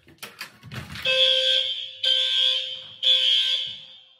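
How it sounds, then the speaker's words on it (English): A loud electronic house alarm sounds in three piercing, evenly spaced tones, each about a second long, after some brief rustling close by. "And then the alarm went off, strangely."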